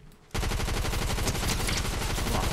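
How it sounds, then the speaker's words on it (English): Rapid automatic gunfire in Fortnite no-build duo mode, a sudden loud burst that starts abruptly and continues as a steady rattling stream of shots, close and unbroken, without talking. "there's someone shooting"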